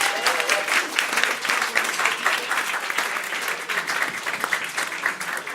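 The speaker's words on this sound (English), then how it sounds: "one last big round of applause for everyone that performed" Steady, dense applause from an audience at a storytelling and flash fiction festival night honouring the writers and performers, loud and sustained throughout with no talking over it.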